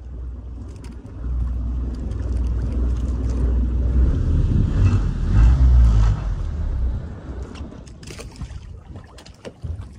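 A boat engine rumbles steadily up close with wind noise, then cuts out toward the end, leaving quieter water and breeze.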